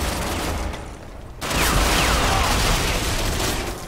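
Gunfire in the online shooter Ghost Recon Online, a dense wash of rapid shots that drops briefly, then returns louder and sustained as a continuous burst.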